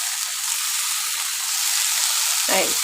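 Ground mustard paste hitting a pan of frying bottle gourd peel, a constant bright sizzle ending in a short louder splattering burst near the end.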